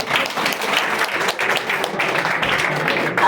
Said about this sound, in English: let us give Mark a round of applause